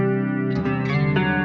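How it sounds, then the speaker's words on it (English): An electric guitar plays a clean tone through a BOSS GT-1000 CORE effects processor, with a few sustained, shimmering chords and notes ringing loud and close, alone without speech. "You can see how fast we can create a clean tone like this"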